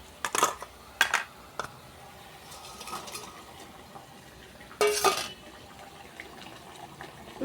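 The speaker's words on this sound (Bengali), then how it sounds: "এই দেখো আমার ঝোল ফুটে গেছে। এবার আমি মাছগুলো দিয়ে দিব।" Fish added to boiling curry in a pan and stirred, heard as a few distinct clinks and splashy scrapes with a louder burst toward the end. A quiet bubbling simmer carries on between them, with no talk.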